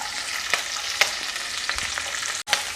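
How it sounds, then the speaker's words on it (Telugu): Cumin seeds sizzle in hot oil in a pan, a bright steady frying hiss with scattered crisp pops and a brief dropout near the end, heard up close with no talking. "మనం ఆయిల్ అయితే వేసుకున్నాం వేసుకున్న తర్వాత జీలకర్ర వేయాలి"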